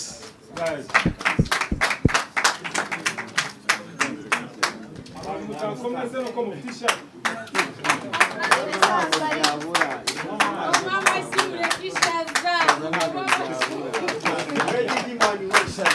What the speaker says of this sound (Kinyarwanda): Dukoma amashyi guys.